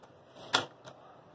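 A single crisp snip of scissors cutting fabric for an office folder with a zip, a sharp broadband burst followed by a fainter second cut, with no talk.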